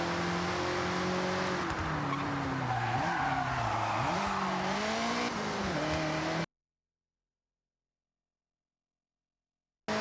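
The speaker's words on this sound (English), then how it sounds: "It's spinning that inside tire a little bit." Inside tire spinning and squealing as a tuned car accelerates in the Forza Horizon racing game, engine droning with shifting pitch beneath a sustained tire screech for several seconds before cutting off into silence.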